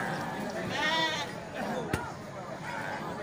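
Sheep bleat at a livestock market where rams and goats are traded, a wavering nasal cry rising mid-clip with a sharp knock and fainter bleats after, over a background of crowd babble.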